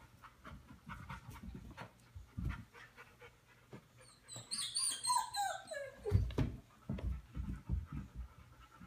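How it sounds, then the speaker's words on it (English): A female dog pants rhythmically and lets out a rising run of high whimpers midway, close by, mixed with footsteps and movement as she is coaxed to demonstrate going up and down stairs. "You're such a mommy dog, Karma."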